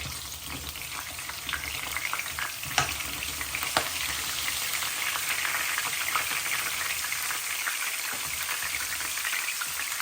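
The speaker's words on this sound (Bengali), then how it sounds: "এখন আমি দিলাম জিঞ্জার গার্লিক, আদা রসুন দিয়া নাড়াচাড়া করবো।" Ginger and garlic sizzle in hot oil as they are stirred, a loud, crackling fry with scraping taps of a spoon against the pan, continuous and close, no voices.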